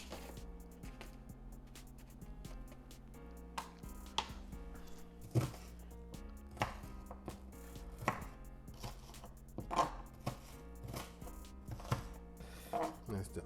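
Onions chopped with a knife on a board, a run of crisp irregular thuds and taps close by, fairly quiet and unaccompanied by speech.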